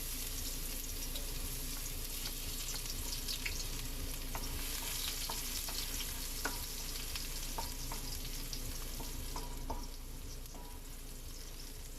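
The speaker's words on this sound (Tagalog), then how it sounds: "Mainit na ang ating mantika. Ayan. Ilagay na natin yung ating bawang." Garlic dropped into hot cooking oil for adobong humba, a steady hissing sizzle with small crackles and pops scattered through it, fairly quiet and close, easing slightly near the end, no speech.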